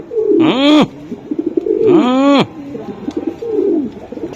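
Racing pigeons at a bird market coo loudly and close by, two long rising-and-falling coos separated by softer throaty murmurs and rustles, with a third quieter coo near the end.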